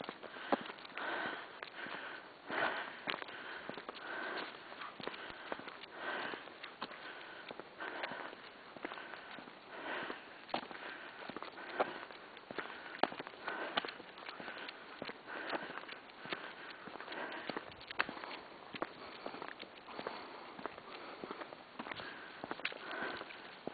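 A bear walking in the first snowstorm of the season makes steady, faint, close sniffing, repeated again and again with soft footsteps in the snow, and no talk over it.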